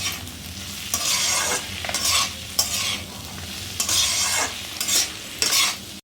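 A spatula stirs potato, tomato and long beans in a frying pan with rhythmic scraping strokes about once a second over a constant sizzle, close and fairly loud, with no talk.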